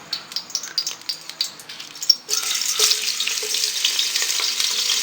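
Sliced onions frying in half a cup of hot oil for chicken biryani, a loud, dense sizzle that surges up as they go into the pan and then holds steady, preceded by a few clinks and scrapes.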